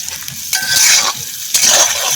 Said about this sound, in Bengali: ক্যাপসিকাম গাজরগুলোকে প্রথমে দিয়ে দিলাম, কারণ এটা ভাজতে টাইম লাগে।